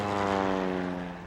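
Propeller airplane flying overhead, a steady loud droning engine hum with strong harmonic tones, slightly fading toward the end.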